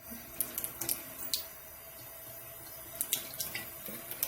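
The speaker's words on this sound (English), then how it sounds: "I use warm water for my brushes." Warm tap water running into a sink to wet makeup brushes, a faint, steady trickle with small splashes and drips scattered through it, close by and with no talk.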